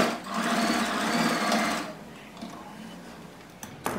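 A sewing machine stitches blouse fabric in a steady, close, fast mechanical whir for about two seconds, then stops, leaving quieter handling noises.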